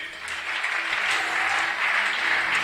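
A church congregation at a Sunday service applauds, dense sustained clapping from many hands filling the room, loud and steady throughout.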